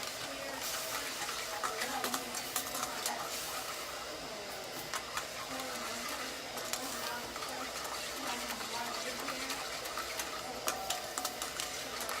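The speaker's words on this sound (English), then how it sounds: "So as it boils, it's going to thicken." Sauce bubbling at a boil in a pot on the stove, a continuous low simmering burble with soft pops, steady and close throughout the stretch.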